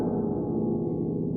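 Harp played to imitate a big gong: a dense, continuous low metallic wash that rings steadily without clear separate notes, loud and close throughout.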